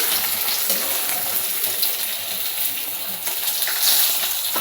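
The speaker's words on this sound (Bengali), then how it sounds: "আর মাছটা এই যে ভাজছি" Fish frying in a pan on a home stove, a steady loud hiss and crackle of hot oil filling the whole stretch without pause.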